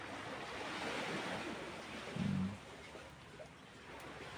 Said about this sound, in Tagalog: Lumukas lang talaga yung hangin.